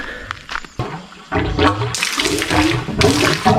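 Water gushes and splutters from a pipe into a plunge pool in irregular bursts, with air-filled sputtering turning into a steady rushing flow.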